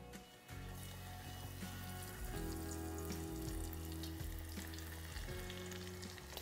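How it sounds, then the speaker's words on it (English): Shrimp deep frying in hot canola oil, a loud continuous bubbling sizzle that swells as the pieces drop in and holds steady, with faint clinks of utensils and a low hum underneath. "It's time to start dropping these in."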